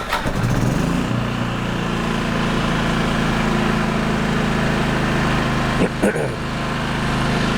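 A Firman 3200W portable generator, model WH03242, cranks, catches and settles into a loud, steady engine drone close by, with a brief surge in revs near the end.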